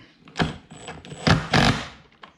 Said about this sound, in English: we'll get an impact driver underneath with a socket